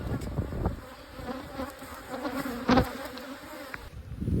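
Honey bees hum steadily at a crowded hive entrance during winter preparation, a dense continuous buzz of many insects close by, with brief louder passes as individual bees fly near.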